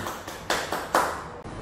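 A few separate hand claps as self-applause at the end of a short functional fitness exercise session, sharp and close, spaced unevenly over a quiet background.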